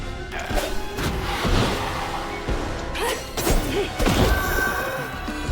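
Thread explosion attacks in the video game South of Midnight land as heavy crashes and thuds with whooshing swipes, several loud bursts in quick irregular succession over game music.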